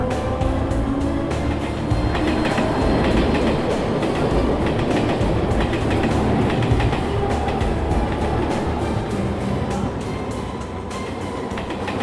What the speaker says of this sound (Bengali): 1 নম্বর প্ল্যাটফর্মে থ্রু ট্রেন আসতে চলেছে